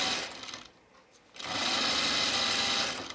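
Sewing machine running close up while edge stitching a Sophie dress, a steady buzzing whir that pauses briefly partway through, then resumes loud and continuous.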